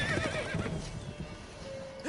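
A horse in The Witcher video game neighs and whinnies, with faint clip-clop hoofbeats under a dense game soundscape, loud and close throughout.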